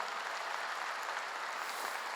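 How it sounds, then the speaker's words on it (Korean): A church congregation claps together in a soft, even wash of applause, fairly distant and brief, with no voices rising above it. "빨리 박수하세요."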